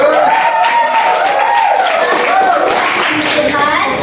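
Students in a microteaching classroom lesson applaud with steady, dense clapping that lasts about four seconds, while a voice speaks over it.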